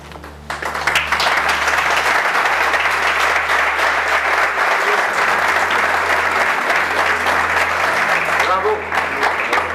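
Sustained, loud audience applause fills a Spanish lecture hall after a talk on Tartessos, steady and dense for nearly ten seconds with no voices over it.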